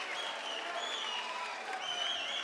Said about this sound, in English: The crowd comes alive.